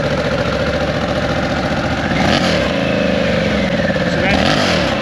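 A motorcycle engine idles and revs through a Nomad electronically adjustable exhaust system, a close, loud, steady throaty rumble with a couple of brief rises in pitch as people talk over it.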